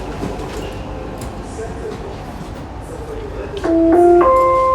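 A Dubai Metro train standing at the station while its automatic doors open, low train rumble with a steady tone, then a louder rise and a clear multi-note chime near the end; people's voices sound faintly in the background.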